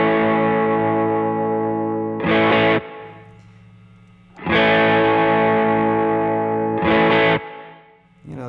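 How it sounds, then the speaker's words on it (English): Electric guitar through an amp with a Tube Screamer overdrive pedal, playing loud, sustained distorted chords in repeated strums with pauses between them. "Then we have the tube screamer."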